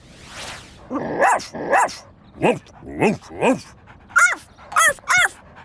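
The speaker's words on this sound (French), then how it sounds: "Écoute attentivement pour trouver quel chien aboie de la même façon." A cartoon dog in an animated children's show barks repeatedly in short, sharp bursts, about eight barks in a loose rhythm, close and loud with quiet gaps between.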